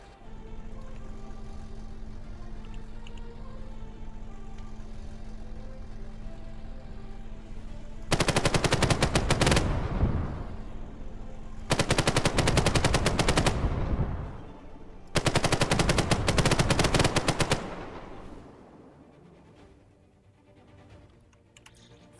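Three long, loud bursts of automatic machine-gun fire from the video game Arma 3 rattle at close range, each lasting a few seconds, with steady low engine hum between them.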